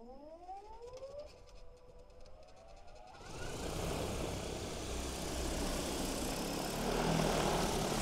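A DJI Agras T40 agricultural spray drone lifts off in an orchard. A rising tonal whine comes first, then a loud, steady broadband roar of propellers that continues to the end, with no talking.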